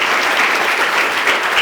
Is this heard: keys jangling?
no